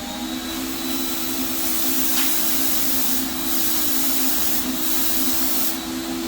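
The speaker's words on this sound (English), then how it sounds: "we're just going to do some spray outs with a 4x6 PVC card. And what we want to start with is just a light mist coat." A paint spray gun lays a light mist coat onto a 4x6 PVC card, giving a loud, steady hissing blast of air and atomized paint that runs without pause, close to the listener.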